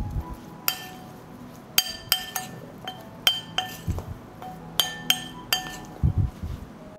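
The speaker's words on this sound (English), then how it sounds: "I will put 2 teaspoons of flour mixture in them. I'll stir." Blueberries being stirred with a spoon in a glass bowl after flour mixture is added, heard as a run of sharp, bright clinks and taps in an irregular rhythm, close and clear with no talking.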